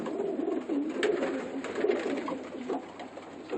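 Young pigeons from a 2013 loft coo softly and continuously in a low murmuring chorus, close by, with no talking.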